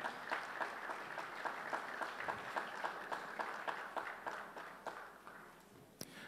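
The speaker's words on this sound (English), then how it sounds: "A big round of applause for her." At the Miss Samoa Pageant, an audience claps in a fairly regular rhythm, faint and somewhat distant, slowly tapering off toward the end with one sharp knock near the close.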